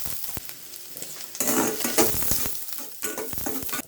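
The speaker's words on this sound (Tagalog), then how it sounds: "tayong pan and na may cooking oil, lagay tayo ng onion and garlic" Onion and garlic fry in cooking oil in a pan, starting quietly and then swelling at about 1.4 s into a steady, close sizzle, with a few stirring clatters.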